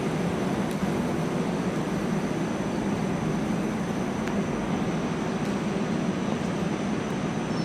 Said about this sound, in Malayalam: അങ്ങനെ നമ്മളിത് ട്രെയിനിലേക്ക് കയറി